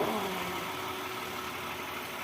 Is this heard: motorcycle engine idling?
yes